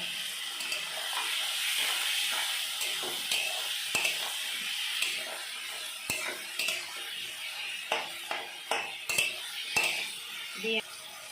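Fried potatoes are stirred into a spice paste in a pan for a Bengali tilapia curry. A spoon scrapes and clinks against the metal over a steady, close sizzle, with irregular taps that grow busier toward the end.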